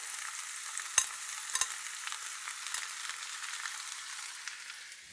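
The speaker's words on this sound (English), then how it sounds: "now we need this to sweat before we can add the garlic and the rest of the ingredients" Vegetables sweat in olive oil at the bottom of a large soup pot for an Italian-style vegetable soup, giving a soft, steady sizzle with a few brief stirring clinks, close and alone without talk.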